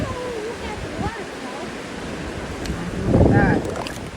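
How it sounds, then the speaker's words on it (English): A waterfall on a hiking trail gives a steady rushing wash of falling water, with wind buffeting the microphone and a louder swell near the end. A voice is heard over it. "Go stand over there so I can look at this waterfall."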